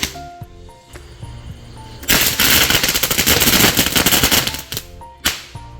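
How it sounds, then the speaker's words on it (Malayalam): A rapid, crackling barrage of thrown palm-leaf firecrackers bursting for several seconds during Vishu celebrations, loud and close, flanked by scattered single pops before and after. "ഓലപ്പടക്കം എടുത്ത് എറിഞ്ഞ് കൊണ്ട് പൊട്ടിക്കുകയാണ്"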